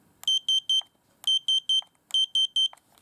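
A small electronic buzzer with its paper label still on sounds three quick shrill beeps in a row, pauses, and repeats the triple-beep pattern three times, close and clear.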